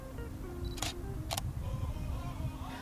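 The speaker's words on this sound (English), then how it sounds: "Now if I touch the screen, it's going to focus and fire the shutter." A Canon EOS 650D DSLR focuses and then fires its shutter, giving two quick, sharp mechanical clicks about half a second apart, faint against quiet room hiss.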